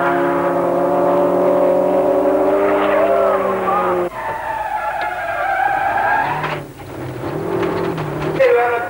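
A Group N touring race car at a 1992 Stannic series heat runs off onto the grass into a spin, a loud engine roaring and changing pitch under a squealing, skidding slide that drops and swells again.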